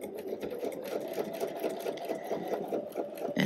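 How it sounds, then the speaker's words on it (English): Sewing machine stitching the front piece of a Cashmerette Canton garment, a steady, moderately quiet mechanical whir with a fine rapid needle pulse running continuously and no voices. "And sew right on up to the second dot there."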